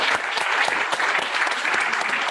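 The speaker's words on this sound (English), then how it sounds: "will you all please join me in giving a round of applause to President Pro Tempore Osmond for tonight?" A room full of students clapping at a student senate meeting, a dense, even round of applause close by that holds steady throughout with no voices over it.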